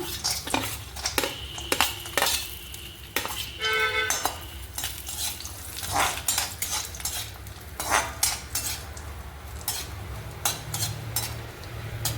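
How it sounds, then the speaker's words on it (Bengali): Cashews going into a pan and being stirred while they fry, a light sizzle under repeated scrapes, clinks and knocks of a spoon against the metal, close up and busy throughout. "এবারে কাজু দিয়ে দিচ্ছি"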